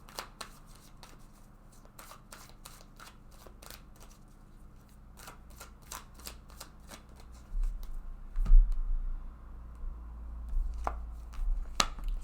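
Tarot cards are shuffled by hand at close range, a run of quick crisp riffles and snaps over a quiet background, with a low rumble of handling growing louder toward the end.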